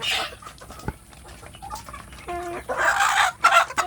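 Free-range village chickens and roosters cluck nearby in a run of short, uneven calls, with a few louder squawks near the end.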